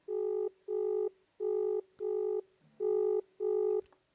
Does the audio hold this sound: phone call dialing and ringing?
yes